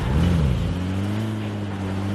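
A car in a mobile battle-royale video game drives with a steady, close engine drone that shifts pitch slightly as it accelerates, running continuously alone.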